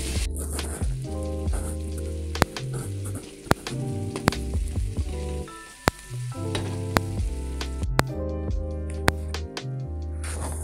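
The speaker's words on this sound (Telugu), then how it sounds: "ఎల్లుల్లి వేసుకొని వేయించుకోవాలి." Onions and garlic fry in a pan with a steady, close sizzle, largely masked by loud background music with a regular beat throughout.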